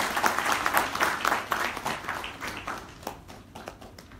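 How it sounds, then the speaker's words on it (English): A formal audience gives a round of applause to welcome a speaker at a conference: dense, fairly close clapping that holds for a few seconds and then gradually thins and fades. "Please welcome him with a round of applause"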